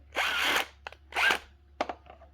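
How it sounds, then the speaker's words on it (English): A DeWalt 18-volt impact driver runs in two bursts of about half a second each, loud and close, with a whirring buzz, each followed by short clicks and a trailing whine. "So this here's my impact driver also,"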